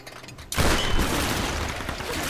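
A grenade launcher fired in the Tomb Raider game, heard as one sudden loud blast followed by a sustained roaring, crackling wash of noise that fills the rest of the moment.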